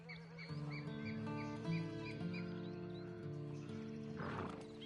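A horse in the video game Red Dead Online gives a drawn-out whinny over a sustained musical score, with a brief snort or breathy rustle near the end.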